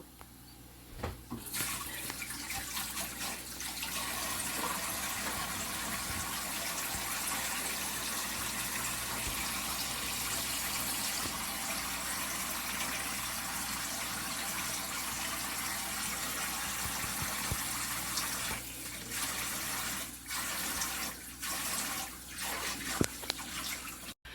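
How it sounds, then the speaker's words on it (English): Steady running tap water while hands are washed in a kitchen during chicken and gravy cooking, a continuous close gush with slight splashes near the end, no voices. "now I've washed my hands"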